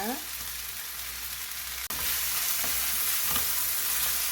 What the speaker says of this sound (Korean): 섞어서 잘 볶아줍니다.